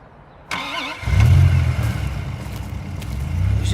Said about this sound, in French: Je reconnais ce son de moteur, elle est presque prête.